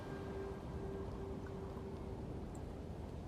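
Steady rain falling over a feudal Japanese battlefield in the strategy game Shogun 2, a continuous, even hiss with a faint low rumble and no talk, constant in level throughout.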